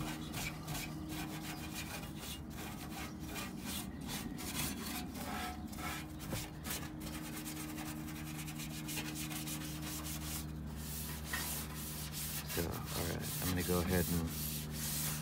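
Steady, continuous rubbing of hand sanding on a 1949–1950 Plymouth dashboard being deburred between coats of a wood grain finish, close and moderately quiet, with a low hum underneath and no talking.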